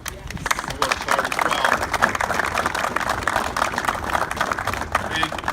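Audience applause at a Bridgeport city announcement with the mayor, a senator and the fire chief, a dense steady wash of clapping filling the whole stretch, with crowd noise underneath and a voice speaking over it.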